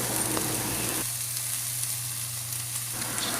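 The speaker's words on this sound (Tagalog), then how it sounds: "So we're going to just stir fry this until it becomes a little soft." Red bell pepper strips stir-frying in a pan, a steady close sizzle with a low hum underneath and a brief quieter dip in the middle.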